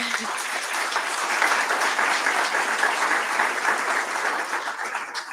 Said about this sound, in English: a big round of applause for her and all of her volunteer members in the activities committee.